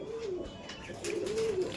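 Young male Kaldom pigeon cooing in a loft: two close, low, throaty coo phrases with a short break between them.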